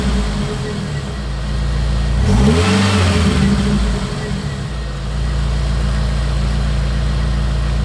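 A Jeep engine revs up gently from idle toward 2000 RPM, rising and easing back into a steady, loud idle hum heard up close, with no talking.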